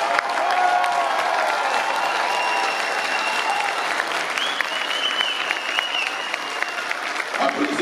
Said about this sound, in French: je vous demande de vous lever et de les applaudir fortement